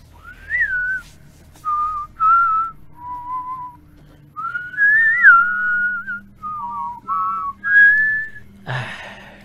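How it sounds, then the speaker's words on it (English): A person whistles a tune alone, a string of clear melodic phrases with short pauses between them, loud and close, ending with a brief rustle. "It's hard to whistle when people can't whistle the same song."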